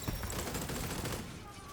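Rapid automatic gunfire crackles in a video game firefight, a dense continuous burst that holds steady before tapering off near the end.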